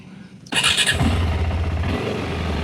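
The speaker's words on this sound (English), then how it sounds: "Let's start the engine" A KTM 390 motorcycle engine cranks and catches on a rainy morning, firing up abruptly after a short whir and settling into a loud, close, steady idle with a slightly pulsing rhythm.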